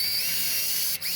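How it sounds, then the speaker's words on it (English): A power drill spins at high speed, pre-drilling a screw hole in a door for a thumb latch passage set, a close whine that dips briefly before resuming. "I'm going to pre-drill that hole."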